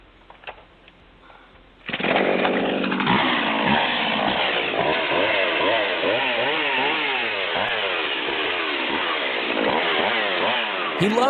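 A chainsaw kicks in after a quiet start and runs loud and close, its engine revving up and down in repeated surges for the rest of the clip.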